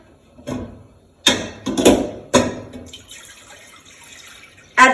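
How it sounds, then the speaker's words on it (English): Cold water is poured into a cooking pot for sushi rice in several short splashing bursts, each sudden and close, separated by quiet gaps and trailing drips. "Add my 3 cups of cold water."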